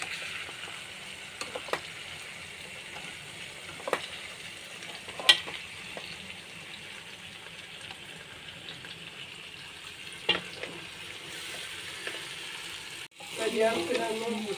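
Chicken and onions fry for a Palakkad-style chicken biryani, a low steady sizzle with scattered sharp clicks of a spoon against the pot and a brief louder stir near the end.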